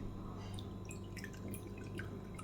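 Small amount of water added to a cucumber salad dressing of vinegar and soy sauce, heard as faint, close drips and light splashes over a steady low background hum, with no talking.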